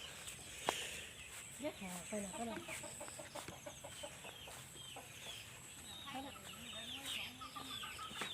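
Black chickens cluck repeatedly at a garden farm with lime trees, with short irregular clucks and calls near and far, under faint background voices.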